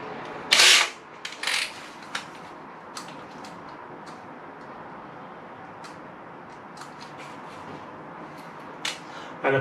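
Screwfix Easy Drive 4.2 x 75 screws driven with a PZ2 bit into plasterboard in a loft conversion, giving a few brief ratcheting, whirring bursts near the start and end over a steady low background.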